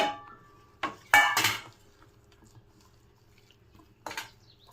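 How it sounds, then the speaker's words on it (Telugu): Freshly fried challa punugulu, crisp fritters of sour buttermilk batter, are tipped onto a metal plate with a few sharp clinks and scrapes, then a final clatter after a quiet pause. "ఇప్పుడు ప్లేట్లోకి వేసుకుందాము"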